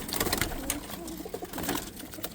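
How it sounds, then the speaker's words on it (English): Pigeons let out of a loft coo steadily and close by, with a dense wash of wing flutter and movement throughout. "Let's let these birds out again."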